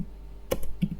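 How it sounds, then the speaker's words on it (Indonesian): Keystrokes on a computer keyboard while entering code in an editor, two or three quick close taps in a quiet room. "Saya coba ketik print"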